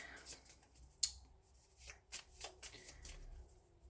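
Tarot cards being shuffled by hand, close and quiet: several short riffling bursts and soft slaps of the deck spaced irregularly over a few seconds, with no talking.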